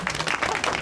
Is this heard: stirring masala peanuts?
no